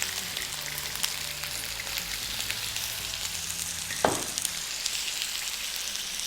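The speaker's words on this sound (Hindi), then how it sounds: "अब मैं इसको अच्छी तरह मिक्स करके इसमें कलेजी फ्राई कर लूँगी" Chicken liver (kaleji) frying in a pan with ginger-garlic paste and turmeric: a steady, soft sizzle with faint stirring, plus one short, sharp clink partway through.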